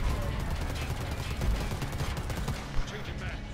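Gunfire inside Predator: Hunting Grounds, a steady dense wash of in-game shots and action noise with one sharper crack near the end, mixed in a busy game soundscape.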